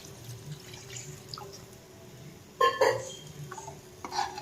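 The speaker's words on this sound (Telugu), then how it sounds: "ఇప్పుడు వాటర్ యాడ్ చేద్దాం ఎంత వాటర్ యాడ్ చేద్దాం" Water splashes and pours into a metal pressure cooker holding chicken curry in short bursts, with faint clinks and drips between them in a quiet room.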